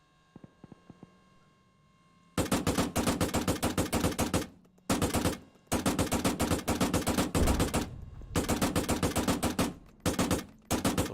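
Loud Arma 3 gunfire rips out in long automatic bursts that cut off and restart several times, with a few faint clicks and near-silence before the shooting begins.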